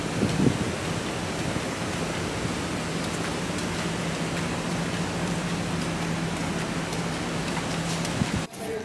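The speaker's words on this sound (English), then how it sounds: "It's gonna be strong and windy." A constant broad rush of strong wind roars across a cruise ship deck, steady and loud throughout, ending with a brief thump.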